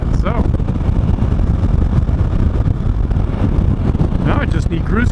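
Steady, loud wind roar buffets the rider on a moving Suzuki V-Strom 1000 motorcycle fitted with bar risers, a continuous dense rush with engine rumble underneath and occasional faint tonal sweeps, no speech.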